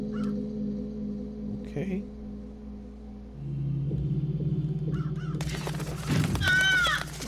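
Crows caw in a Dreams game on PS4, several harsh calls coming in brief bursts over a low rumble, with one loud caw near the end and a voice briefly speaking.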